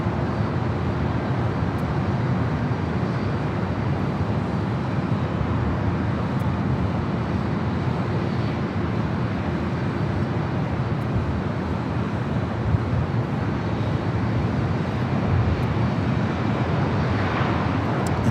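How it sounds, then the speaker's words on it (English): A United Boeing 757 airliner taxis at LAX on a taxiway, heard as a steady broadband jet-engine rumble that stays constant throughout with no talk. "United 757 there on taxiway Charlie"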